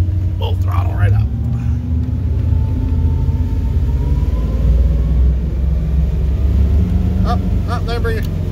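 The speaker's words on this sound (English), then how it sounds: "I'm gonna steer with one hand, hold the throttle with the other, and we're gonna watch both. Full throttle right up." A 2006 Formula 34 PC powerboat runs up to full throttle, its engine a loud, steady low rumble and roar that holds close and continuous throughout, with faint higher whines above it.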